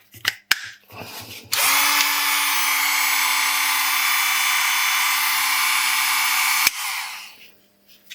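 A cordless mini angle grinder with no disc fitted, spinning up after a few clicks into a loud, steady high-pitched whine that runs for about five seconds, then winds down.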